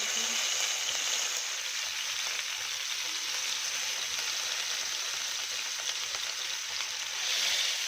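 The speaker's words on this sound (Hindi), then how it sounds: "15 से 20 मिनट के बाद हम ऑयल डालेंगे पैन में और ये देखिए चिकन ऐड कर देंगे इसमें जैसे ऑयल गर्म होगा।" Marinated chicken sizzles loudly in hot oil in a pan, a dense continuous hiss that holds steady throughout with no voices.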